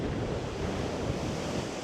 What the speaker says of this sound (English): Still is like this with very wild waves to come in the